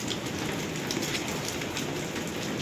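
Steady rain falling outdoors at a rural home, a dense continuous patter on surfaces that stays loud and even throughout with no talking.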